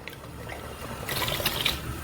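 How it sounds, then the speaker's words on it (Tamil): Water poured from a glass into a pot of mutton korma with cashew paste, a soft gurgling trickle that grows into a brighter splashing pour partway through, quiet and close. "இப்போ வந்து ஒரு கிளாஸ் அளவு தண்ணி ஆட் பண்ணிக்கலாம்."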